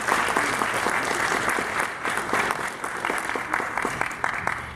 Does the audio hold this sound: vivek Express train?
no